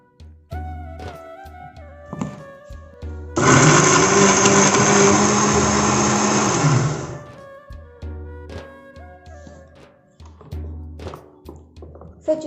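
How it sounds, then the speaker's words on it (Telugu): Mixer grinder blending chickpea curry masala with a little water into a smooth paste, one loud whirring burst of about four seconds amid scattered kitchen clatter and thunks before and after. "ఇప్పుడు మనం కొంచెం వాటర్ యాడ్ చేసుకొని దీన్ని మెత్తగా పేస్ట్ లాగా మిక్సీ వేసుకోవాలి"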